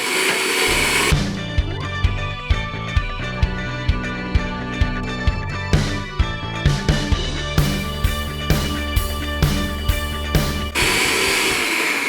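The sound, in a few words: electric mixer mixing cupcake batter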